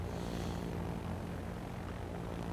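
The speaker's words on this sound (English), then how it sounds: "Luistr is coming in with torpedo bombers again, keeps him spotted" Propeller-driven torpedo bombers drone overhead in a naval battle game, a steady, continuous engine roar at moderate loudness with no talking.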